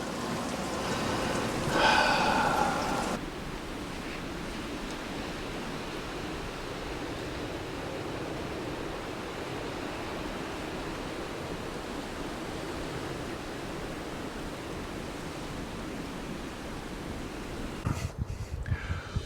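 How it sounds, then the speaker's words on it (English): Rain falls during a winter storm as a steady, even hiss of broadband noise that continues throughout, with a slightly louder burst near the start and a brief disturbance near the end. "it's raining."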